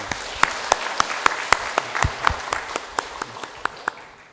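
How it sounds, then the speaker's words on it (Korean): A church congregation at a Sunday service applauds to give glory, loud close clapping with a strong, regular rhythm of sharp individual claps standing out from the crowd. "우리 영광의 박수 한번 올려드립시다"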